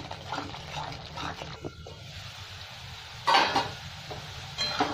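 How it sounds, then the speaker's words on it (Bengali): Spice paste fries in oil for potato curry with a soft sizzle, while a spoon scrapes and stirs in short bursts; a couple of louder sizzling flares stand out against quiet kitchen background. "খুব ভালো করে তেল ছেড়ে দিয়েছে, আর একটু আমি কষে নেবো খুব ভালো করে।"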